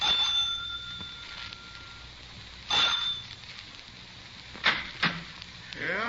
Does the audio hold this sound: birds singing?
no